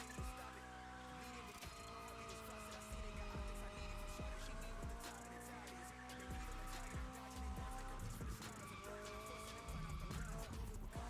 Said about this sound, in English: The drifting in this game does feel so nice